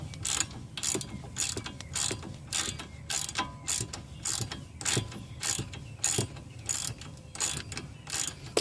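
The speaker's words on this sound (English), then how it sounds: "you should be able to use the wrench to take out the bolt" A ratcheting wrench loosens a sway bar link bolt on a Mk5 Rabbit, Jetta or GTI. It gives close, rhythmic bursts of clicking, about a dozen strokes with short pauses between them.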